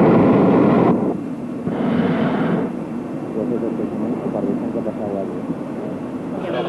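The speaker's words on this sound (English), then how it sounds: "Hier kommt die heiße Luft raus. Da geht's ihr hoch." Hot air balloon burner in Australia blasting with a loud, broad roar in two bursts, the first about a second and the second shorter, with people talking through and between them.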